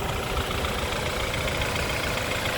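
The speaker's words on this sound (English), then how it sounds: "As you can see, the engine looking very nice and idling perfectly." The 2-liter turbocharged engine of a 2013 BMW 528i xDrive idles steadily, a constant even hum heard up close with no pauses.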